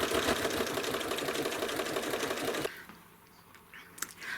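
A sewing machine fitted with a walking foot stitches rapidly through a quilt with glamour thread, a steady close mechanical chatter that stops abruptly partway through, leaving faint clicks and room tone.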